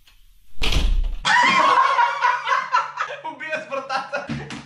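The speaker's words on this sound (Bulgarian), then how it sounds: "Такова му тряска вратата в лицето." A door slams with a single heavy, close thud, followed at once by someone snickering and chuckling for a few seconds.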